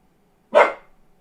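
A single sharp dog bark, loud and close, in an otherwise quiet setting.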